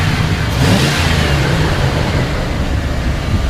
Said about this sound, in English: Go ahead and rev it up a little bit. These engines just have a lot of torque.